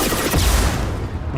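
Heavy explosive fire from a rocket launcher in a video game: a dense, booming burst with rumbling low end, loud and close, fading over about a second.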